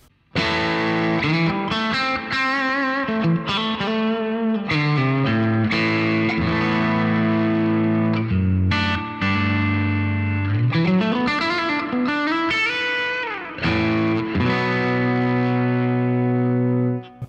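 Crunchy, driven electric guitar through a Tone King Sky King tube amp in pentode mode plays a riff of chords and single notes, with several short pauses, loud and close.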